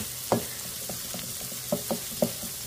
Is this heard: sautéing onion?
yes